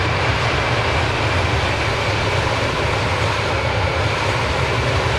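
A steady, loud engine drone from an airliner climbing in Flight Simulator 2024, a dense unbroken roar holding constant throughout with no voices.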